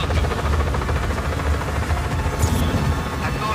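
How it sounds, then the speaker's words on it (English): Helicopter in the Just Cause 4 video game, a steady rotor thrum and engine drone filling the whole stretch at constant loudness, with game effects mixed in. "Be advised, target is a helicopter."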